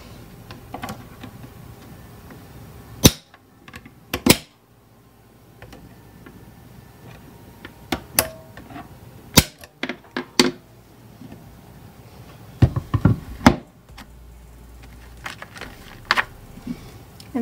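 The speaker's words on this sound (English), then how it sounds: "You really have to use some force if you're doing this with this punch" A hole punch presses through clear plastic tabbed dividers, giving a scatter of sharp, close clicks and clacks at irregular intervals over a quiet background.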